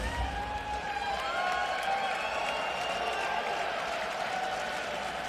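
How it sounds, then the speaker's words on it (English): A TNA wrestling crowd at a women's knockouts match makes a continuous wash of cheering and applause, fairly distant and even, with a commentator talking faintly over it. "The crowd, the energy is already starting to set the scales off here, as you can hear it at home."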